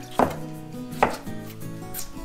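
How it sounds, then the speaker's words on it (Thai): Knife chopping tomatoes on a board for a seafood som tam salad, a few sharp thuds about a second apart with wet squishy cutting between, close and clear. "เดี๋ยวหั่นมะเขือเทศให้เสร็จก่อน"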